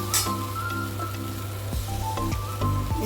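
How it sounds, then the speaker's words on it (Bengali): Water splashed into a hot pan of veg Manchurian gravy, a crackling sizzle with scattered sharp pops and droplet-like ticks over a low steady hum, no voices. "দেখুন জল দিলাম।"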